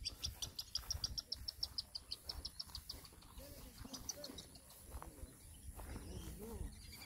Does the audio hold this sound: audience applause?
no